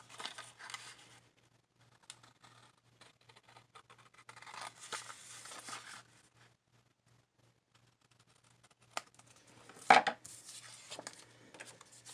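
Scissors cut craft paper for vintage-style tags in a quiet room, making scattered faint snips and paper rustles, with one sharper cut standing out near the end.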